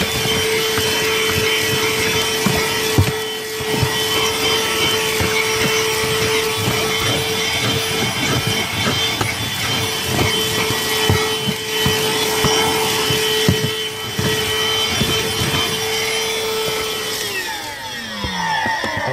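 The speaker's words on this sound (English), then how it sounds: "I just cleaned the carpet here, and I'm gonna again vacuum" A vacuum cleaner runs over carpet that has just been cleaned of salt, giving a steady, loud, continuous whir with a sustained hum and scraping, rubbing strokes throughout, winding down near the end.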